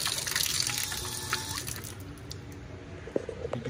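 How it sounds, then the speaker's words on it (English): Water runs through newly installed copper pipe fittings with a steady, faint hiss, then a couple of small clicks near the end. "The water is on."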